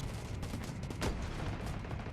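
Rapid gunfire in the mobile shooter game Delta Force Mobile comes as a quiet, continuous stream of shots with one sharper burst near the middle and no talk over it.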